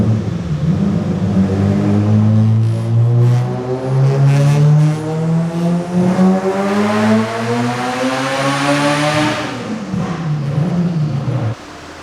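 A stock-sleeve turbo B18 Honda Civic engine on 25 psi of boost revs hard through a dyno pull, its loud droning note climbing steadily for about nine seconds before the throttle snaps shut and the revs fall away.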